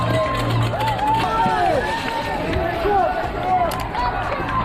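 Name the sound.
crowd shouting and cheering at Tower Bridge, London Marathon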